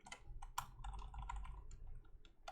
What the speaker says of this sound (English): Typing in URL by hand